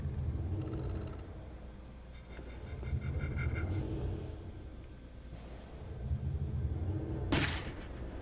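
Gunfire from a soldier's gun in the sci-fi online role-playing game Anarchy Online, with a few bursts of shots and one sharp crack near the end over a steady low game rumble.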